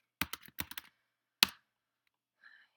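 Keys on a computer keyboard tap out a password in a quick burst of about eight light clicks, then one firmer stroke, then a faint trailing sound, close and quiet with no talking.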